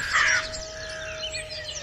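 A single crow caws loudly near the start of an animated animal story, a harsh burst followed by a steady tonal backing and no talk.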